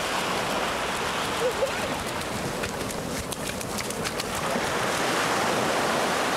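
Ocean waves wash onto Fairyland Beach on Mahé in the Seychelles, a continuous loud surf roar filling the scene, with a voice speaking over the water.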